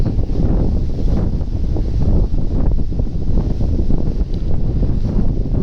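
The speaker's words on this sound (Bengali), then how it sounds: "আর এখানে কিন্তু বাতাস বেশি" Strong gusting wind buffets the microphone in a loud, continuous low roar at sea aboard a fishing boat, with faint water and engine rumble beneath and no talking.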